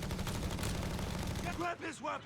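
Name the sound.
machine gun firing from a lighthouse in Company of Heroes 3 video game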